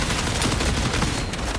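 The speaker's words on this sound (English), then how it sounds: "I can feel the gunshots, man. The guns are really punchy." Rapid, punchy gunfire from weapons in the video game Marathon, a dense continuous burst of shots that fills the whole moment with no talking over it.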